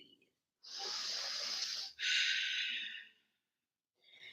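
Slow, deep breathing during a seated yoga forward fold toward the left leg: a long, breathy inhale followed straight away by a long exhale, close and clear, then quiet.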